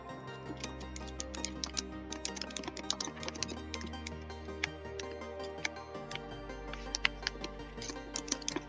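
Rapid clicking of a computer keyboard as a task name is typed into payroll task-management software, a steady close run of light keystrokes over a low background hum, with no talk.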